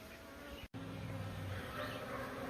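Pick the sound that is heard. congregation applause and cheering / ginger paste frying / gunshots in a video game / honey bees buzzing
honey bees buzzing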